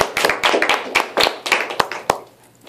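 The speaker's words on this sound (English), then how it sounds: "And give some claps for yourselves," An open mic night audience gives a short round of clapping for themselves: sharp, distinct handclaps that start dense and thin out into a few scattered final claps within about two seconds.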